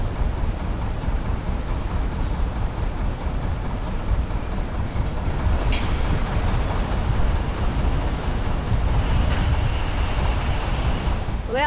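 Strong wind blows on a canal, buffeting the microphone with a dense, continuous low roar and steady rush, loud throughout with no clear voices.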